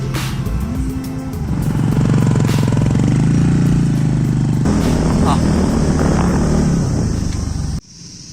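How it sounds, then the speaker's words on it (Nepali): A motorcycle engine drones steadily while riding, with wind rumble and a voice talking over it before the noise cuts off abruptly. "अहिले यो जुन मोटरसाइकल राइड रहेको छ"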